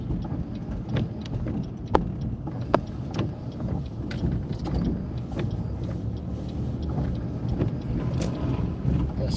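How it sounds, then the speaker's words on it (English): A car driving on a rain-soaked street during a beginner driving lesson, with a steady low wash of tyres hissing and splashing through water, broadband and continuous, with wind-like rumble and a few faint clicks. "That's water that you hear."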